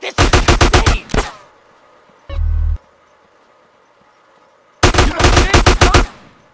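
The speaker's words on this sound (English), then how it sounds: "Yes, a gun." Gunfire in GTA San Andreas: two loud bursts of rapid automatic shots, each about a second long, separated by a quiet gap broken by a short low thump.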